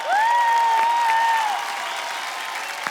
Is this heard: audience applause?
yes